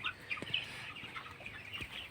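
Twenty-two-day-old broiler chickens in a poultry shed at night, soft scattered clucks and chirps from several birds over a faint steady background hum, no voices.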